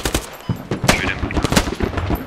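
Gunfire in the video game Squad: loud, dense bursts of rapid automatic shots and cracks stacked together over a couple of seconds, with no pause.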